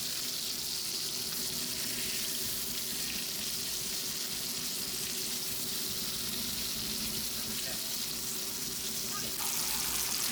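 Sardines fry in a pan of hot oil, a steady, dense sizzle that holds at an even level throughout, close and continuous with no talking over it.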